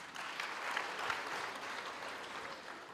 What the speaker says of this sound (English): Can we give the academics and support a round of applause?